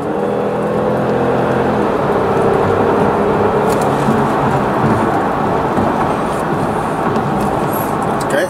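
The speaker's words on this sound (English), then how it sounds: "I'm gonna try to do a hard acceleration." A Genesis G70 2.0T, with a turbocharger wastegate fault, accelerates hard on a highway, giving a loud continuous roar of engine and road noise from inside the car that holds steady throughout.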